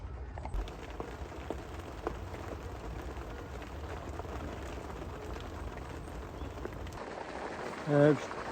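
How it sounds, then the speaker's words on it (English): Heavy winter rain falls steadily at a carp fishing spot, a soft continuous hiss of drops spread evenly throughout, with a brief thump and a short voice sound near the end. "Started raining again now, heavy."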